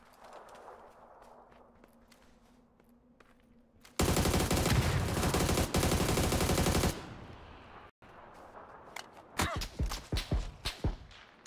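Gunfire in a first-person shooter video game, a loud sustained burst of rapid automatic fire lasting about three seconds, followed by a string of sharper single shots and footsteps.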